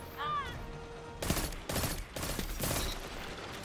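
Gunfire in a Destiny 2 multiplayer match, with a few separate bursts of shots following an electronic tone, moderately close against game ambience.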